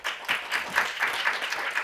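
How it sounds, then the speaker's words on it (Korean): Audience applause in a conference hall as an official comes to the stage at an academic volunteering society meeting, a brief patter of clapping with uneven beats, moderately distant. "나오실 때 큰 박수 부탁드립니다."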